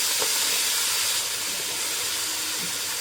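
Vegetables for a Malabar spinach curry hit hot oil tempered with five-spice and dried red chillies, a loud, steady, close sizzle that eases slightly and continues alone.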